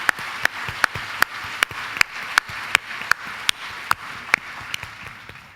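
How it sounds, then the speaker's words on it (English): Audience clapping at a Women in the World conference in Texas, heard as sharp, evenly spaced claps in a steady rhythm that stays moderately loud and tapers off at the end. "Let's give Miley another round of applause."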